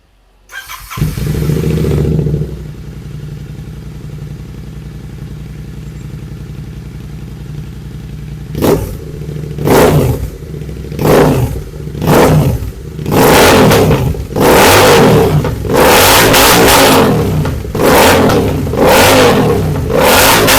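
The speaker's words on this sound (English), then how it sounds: "So let's get the exhaust note without baffles." Royal Enfield Interceptor 650 fitted with a Barrel BE-10 exhaust with the baffles removed: the engine idles with a deep, loud burble, then a series of sharp, throaty revs blip repeatedly, growing more frequent toward the end.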